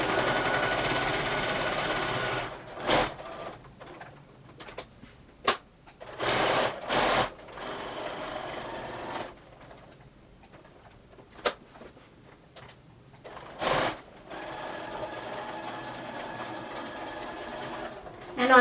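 Sewing machine sewing a reinforcing square on a patch pocket: steady rapid stitching hum for a few seconds, then stop-start bursts, clicks and a pause before another long stretch of fast stitching.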